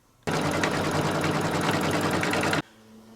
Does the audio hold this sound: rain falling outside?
no